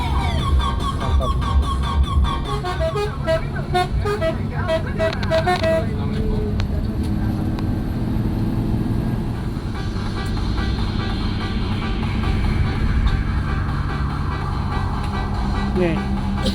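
Road traffic heard from inside a long-distance Pangeran bus on the Padang to Jakarta route, with a continuous engine and road rumble, other vehicles passing close by, and several horn toots, mixed with talk.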